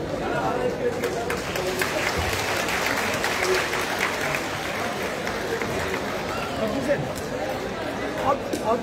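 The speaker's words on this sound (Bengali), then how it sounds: "জোরে একটা হাততালি হোক সকলের জন্য" A hall audience at a student felicitation ceremony claps steadily for several seconds, a dense, sustained burst of applause mixed with crowd murmur.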